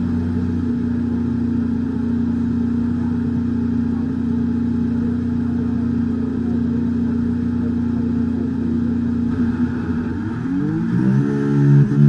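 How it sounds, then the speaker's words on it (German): A Formula 1 car's engine in the F1 23 video game idles loud and steady on the Qatar circuit, then rises in pitch as it revs up near the end. "Motor läuft, es kann losgehen."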